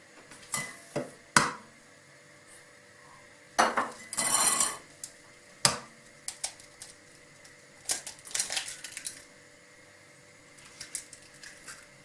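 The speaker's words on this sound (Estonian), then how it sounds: "Ja munad on vaja lahti lüüa." Eggs cracked and beaten in a bowl for homemade Estonian sõir, made with butter melted in a pot: sharp scattered clicks and taps of shell and utensil against the bowl, with a short burst of whisking, close and fairly quiet, no talk.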